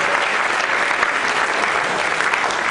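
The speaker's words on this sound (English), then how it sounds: "So big round of applause to the Friends of Berkeley Camp and the East Bay Media Center" A theater audience applauds in a dense, steady wash of clapping that fills the room at full volume from start to finish, with no break or pause.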